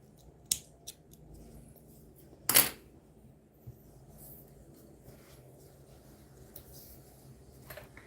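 Scissors snip crochet yarn in a quiet room, giving a few sharp, brief clicks spaced out, the loudest near the middle, with soft handling noises between them.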